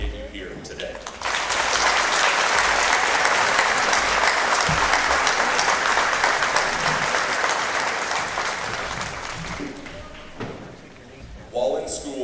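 A graduation audience at Tonganoxie High School gives the parents a long, full round of applause lasting about nine seconds, loud and steady before tapering off, with voices speaking before and after it.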